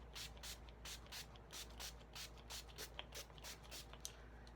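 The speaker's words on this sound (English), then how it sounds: "And then I'm going to set with my Wet n Wild setting spray." Wet n Wild setting spray spritzed onto a made-up face: faint, quick repeated hissing bursts in a steady rhythm, close and soft, with no talk.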